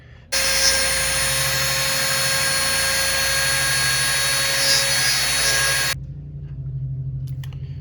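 A high-pitched Dremel rotary tool whines steadily and loudly for several seconds, then cuts off abruptly, leaving a low hum.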